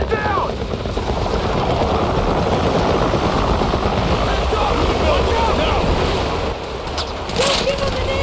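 Helicopter in the video game Battlefield 6 during a night raid mission, a loud, continuous rotor roar with gusty, wind-like noise filling the scene and faint voices over it.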